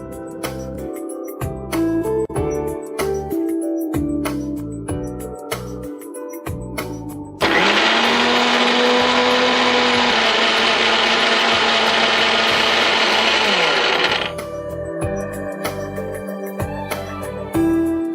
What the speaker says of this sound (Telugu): ఇప్పుడు మనం దీన్ని మిక్సీ పట్టేసుకోవాలి.